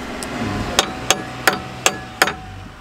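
Sharp hammer blows tap brake pads into place on a Renault Megane RS, five distinct metallic strikes at an uneven pace, close and fairly loud over a low background hum, with no talking.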